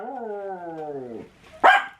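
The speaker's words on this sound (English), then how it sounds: "we got the barking going on. A dog walked by" A dog barks or howls in a long drawn-out tone for over a second, then gives one sharp, louder yelp or bark, close by and with no talking over it.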